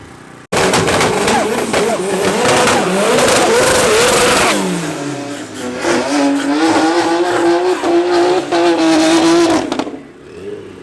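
Cupra race car in a drag race at Midvaal Raceway, a loud engine roaring hard through rising revs, a brief drop, then another sustained high-revving pull before cutting off, with a commentator's voice mixed in.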